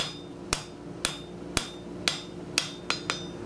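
A hammer strikes hot bar stock on an anvil during forge work, seven sharp ringing blows at a steady half-second rhythm, the last two coming quicker, each with a bright metallic ring.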